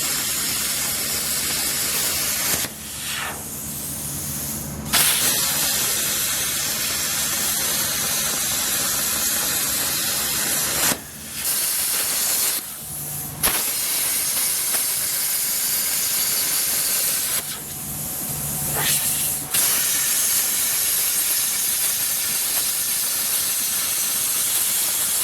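A plasma cutter hisses loudly while cutting metal, a sustained harsh airy rush in long stretches broken by a few short pauses, close and alone without talk.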